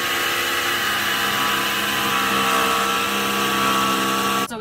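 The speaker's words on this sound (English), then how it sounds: "we're gonna go ahead and cut through with a jigsaw." A jigsaw cuts through foam for a custom bed platform inside a Toyota Prius, giving a loud, steady, continuous buzz that runs for several seconds and stops abruptly.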